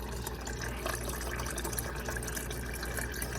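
Water runs steadily through a new EveryDrop refrigerator water filter and out the dispenser, a continuous close-up gush of liquid without pauses or talk.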